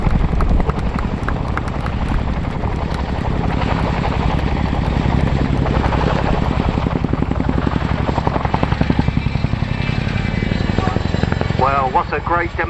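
An RAF Chinook helicopter at a flying display gives a loud, continuous rotor thud with a steady rapid chop, with a voice talking over it near the end.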